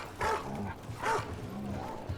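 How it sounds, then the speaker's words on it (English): A dog in the video game Dragon Age: The Veilguard gives two short, moderately loud barks about a second apart, over a low ambient game background. "Pet the puppy!"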